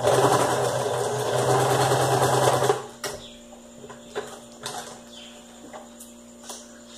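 A sewing machine stitches a plush heart in one loud, steady whirring run for about three seconds, then stops, leaving a low hum and scattered light clicks of handling.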